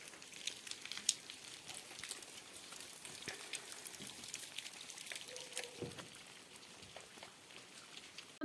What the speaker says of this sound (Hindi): बारिश हो रही है फिर से हल्की हल्की